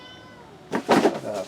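A pet cat meows loudly and close by, giving a couple of drawn-out, insistent cries, right after someone speaks briefly.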